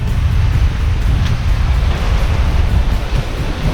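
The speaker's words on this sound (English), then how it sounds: "water just keeps coming over the nose, just keeps going under" Rough Caribbean sea of tight, closely spaced 5 to 6 foot waves washing over a sailboat's bow. A loud, continuous rushing roar of surging water blends with wind noise, with no voices.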